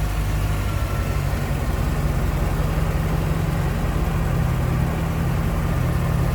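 A 1989 Chevrolet Corvette convertible engine idles steadily close by with the AC compressor running, a constant low rumble and hum with no clear change over several seconds.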